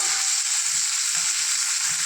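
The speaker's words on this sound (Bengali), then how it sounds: "পেঁয়াজটাকে হালকা একটু ভেজে নেব।" Finely chopped onion fries in a pan, giving a constant close sizzle with faint low stirring bumps beneath.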